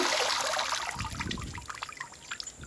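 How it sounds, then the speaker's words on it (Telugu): Rinse water drains off freshly washed grapes for homemade raisins, first pouring in a steady stream, then thinning to a close, soft trickle and drips. "ఈ నీళ్ళు అంటే కడిగిన నీళ్ళు లేకుండా మనం వంపేసేసుకోవాలి"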